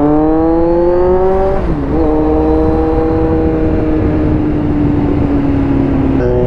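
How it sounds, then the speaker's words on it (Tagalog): Kawasaki Z900 motorcycle revving through an SE project aftermarket muffler, loud and close, with engine pitch climbing, dropping on a brief throttle cut, then holding high before another blip. "Enjoy muna natin ang ating SE project na muffler."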